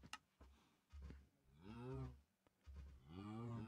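Cows in a Minecraft-style survival video game give two long, loud lowing moos close by, each preceded by short soft knocks, with no talking over them.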